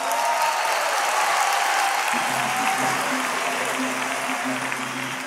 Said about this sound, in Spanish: Aplauso para nuestro amigo y sus flexiones con dos dedos.